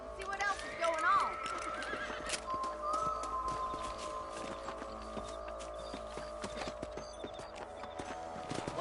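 Horses in the video game Red Dead Redemption on PS5 whinny loudly near the start, then hooves clip-clop steadily throughout over a continuous game soundscape.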